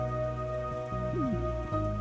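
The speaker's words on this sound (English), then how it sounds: "It's not raining that hard." Light rain falls in the video game Trails of Cold Steel, a soft continuous patter over a sustained tonal background, with brief swooping sound effects and no voices.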